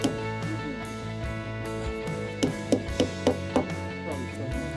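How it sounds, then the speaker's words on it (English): Sharp hammer taps drive a metal pin into confiscated wild sheep horns, a cluster of distinct close knocks near the middle over a steady low hum, with faint background voices. "So when you hammer it in"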